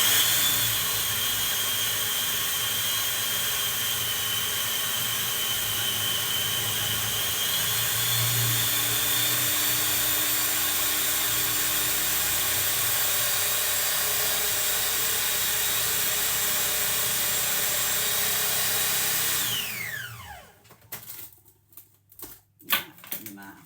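A food processor whirs loudly and steadily as it blends mince pie pastry into a dough, running for about twenty seconds before switching off, followed by a few light clattering knocks.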